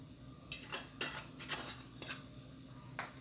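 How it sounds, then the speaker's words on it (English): Spiced pork stew with cayenne and turmeric being stirred in a pot, a spoon scraping and clinking against the metal in steady, evenly spaced strokes about twice a second, close and clear with no talking. "And we stir this around."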